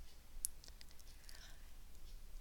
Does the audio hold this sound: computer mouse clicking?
yes